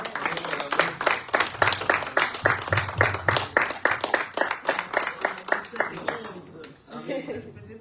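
A church congregation claps in a steady, quick rhythm for praise, the beats carrying loud and close over voices for most of the passage before tapering off near the end.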